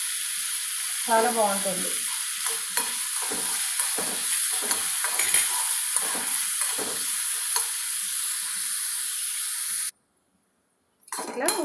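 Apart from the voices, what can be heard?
sliced onion frying in oil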